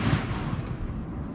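An army mortar fires during an indirect-fire drill, a single heavy, booming report whose low rumble decays over about a second, with no talking.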